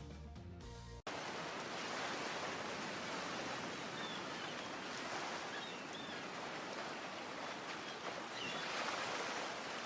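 Beach surf in the video game Hooked on You, a steady broad wash of waves rolling continuously after a brief burst of music, even and moderately loud, with no talking.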